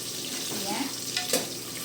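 Onions sizzle and fry in a pan for biryani, a steady soft hiss with brief scraping of a stirring spoon, alone and fairly faint.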